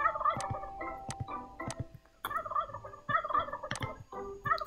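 Turkeys in the Roblox game Wacky Wizards gobble repeatedly in rapid, warbling bursts, close and clear, with short pauses between calls and no talking.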